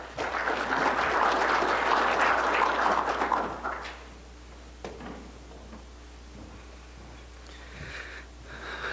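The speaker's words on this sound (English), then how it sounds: "give him a round of applause" Applause from a morning audience at a dairy technology talk, a steady patter of clapping for about three and a half seconds before it quickly fades to quiet room tone.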